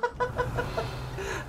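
Chickens cluck in the Forbidden Forest of the video game Hogwarts Legacy, giving a series of short, evenly spaced clucks at close range over a steady low ambient hum.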